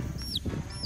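A young chick gives two thin, high-pitched cheeps in quick succession over a rustling farmyard background.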